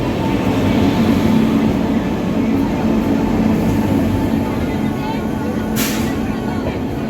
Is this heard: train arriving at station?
yes